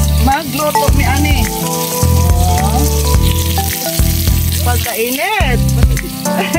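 Sweet potato, mung beans, squash and okra fry in a pan at a farmhouse kitchen, giving a lively, close sizzle. Tonal sounds and background voices run over it throughout.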